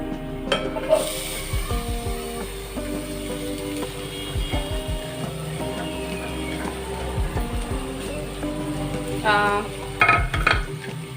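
Onion frying in oil in a home kitchen, a steady sizzle under frequent clinks and scrapes of a spoon against the pan, with a few sharper metallic knocks toward the end; no talking.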